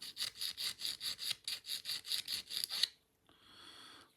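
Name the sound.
coarse file filing edge of airsoft pistol slide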